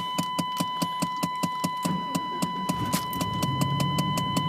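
A 1994 Chevy engine runs and idles with a steady, even ticking pulse near the microphone, its rhythm roughening and a low rumble rising partway through.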